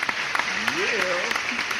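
Podcast studio audience clapping and cheering in a steady wash of applause, with a voice briefly calling out over it near the middle.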